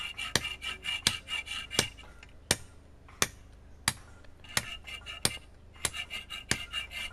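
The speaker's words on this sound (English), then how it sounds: "You're rasping" A rasp works a Shona stone fish sculpture, giving sharp, scraping strokes at an irregular pace, close and clear, with short metallic-sounding clicks between them.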